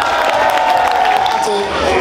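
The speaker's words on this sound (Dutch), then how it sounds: "applaus voor deze geweldige mensen!" Dense, loud crowd applause and cheering at a carnival event in Boemeldonck, a continuous roar of clapping with voices mixed through it.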